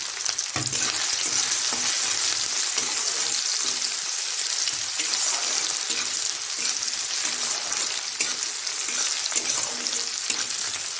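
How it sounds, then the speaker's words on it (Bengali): Chopped ginger and green chilli fry in hot oil, giving a close, steady, bright sizzle with light stirring noises and no talking. "আদাটা খুব একটা বেশিক্ষণ ধরে ভাজবো না, তাহলে একটা বাজে একটা স্মেল আসতে লাগে।"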